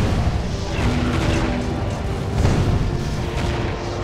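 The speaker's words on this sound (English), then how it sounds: "That's what a cannon's made for." Cannon fire in the tower-defense video game Defense Grid: The Awakening, loud continuous booming blasts that overlap into a dense rumbling barrage for several seconds, with no pauses between shots.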